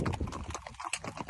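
Horses walk nearby, their hooves clip-clopping in quick, uneven knocks that repeat throughout the moment.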